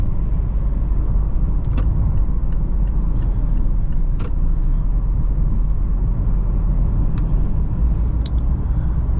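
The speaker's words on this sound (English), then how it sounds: "I do like the cabin noise. Like you kind of hear the engine." Steady low engine drone of a 2016 Mazda MX-5 Miata heard from inside the cabin while driving, a constant rumble with faint road noise and occasional small clicks, no talking.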